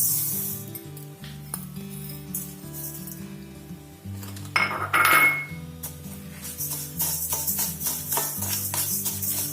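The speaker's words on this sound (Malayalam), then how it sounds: "ഇനി നമുക്ക് അരി വറക്കാം. അരി അതിലേക്കിട്ടാം." Rice dry-roasting in a pan for chutney podi, with scraping and clinking of a utensil against the metal and a light rattle of grains, a sharper clatter in the middle, over steady background music.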